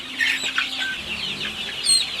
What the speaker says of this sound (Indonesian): Kita membahas tentang anak ayam Sultan Udin yang sudah ratusan ya